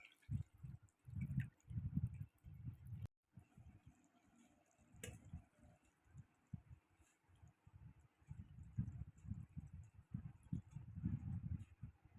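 Poha is rinsed in water in a strainer, with soft trickling, dripping and splashing in uneven bursts and a brief pause midway, quiet and close.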